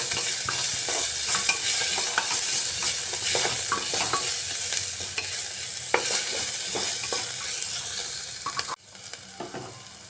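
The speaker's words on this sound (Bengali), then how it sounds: "কুচিয়ে রাখা আদা আর রসুন এই আদা রসুন দিয়েও একটা সময় আমি নাড়িয়ে নিচ্ছি" Chopped ginger and garlic stirred in a frying pan while cooking ghugni with soybeans and kidney beans, giving a steady sizzle with repeated scraping strokes of the spoon, close and continuous, with a brief drop in level near the end.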